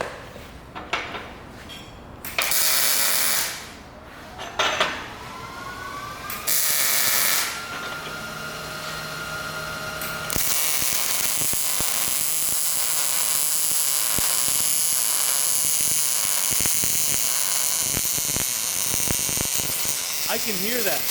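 MIG welding in a fabrication shop produces a steady, loud crackling hiss that runs unbroken for about ten seconds after some shorter bursts and clatter at the start. The sound is close to the listener and carries no talk over it.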